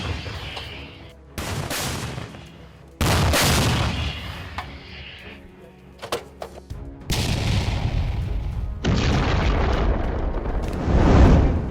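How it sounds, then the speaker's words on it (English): Ammunition of a Russian 240mm 2S4 Tyulpan mortar detonating after a strike in Pokrovsk, Ukraine: a chain of loud booming blasts and crackling secondary explosions, sustained and continuous with no voices. "The impact caused the ammunition of the Russian 240mm mortar to ignite and explode"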